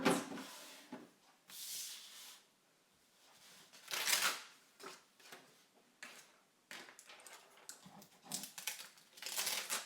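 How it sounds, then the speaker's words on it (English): A ScanNCut cutting machine unloading its cutting mat, with intermittent plastic rustles, scrapes and brief mechanical whirs, close and fairly quiet, separated by short pauses. "So I'm just going to unload this mat."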